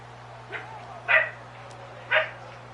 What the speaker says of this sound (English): it's Ginger barking in the background